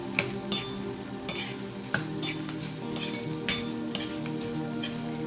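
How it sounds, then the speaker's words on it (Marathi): Onion sautés in oil in a pan for a dried-fish dish, with a steady soft sizzle under repeated sharp scrapes and clinks of a spoon stirring against the pan. "आता हा कांदा आपण तेलावर चांगला परतून घेऊया."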